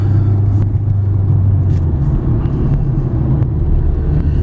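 Ford Focus ZX3 with a 5-speed manual, cruising in third gear: a steady, smooth engine drone and road rumble heard from inside the car, loud and even, with no voices.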